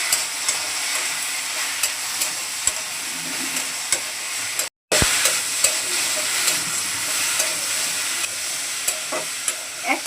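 Okra being stirred in a pan with salt and turmeric, a steady close sizzle and hiss of frying with scraping stir strokes, briefly cut to silence midway before the sizzling resumes.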